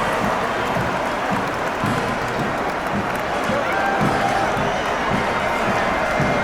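Crowd at a Miracle League baseball game in Harford County, steady loud cheering and hollering for a batter heading to the plate, with a rhythmic thumping beat underneath throughout.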